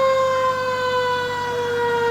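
A fire engine siren sounds at a town anniversary parade, a loud, steady wailing tone that holds close and continuous with no talk over it.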